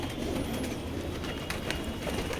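Soft pigeon coos murmur through a busy, noisy background, faint and continuous with no talking.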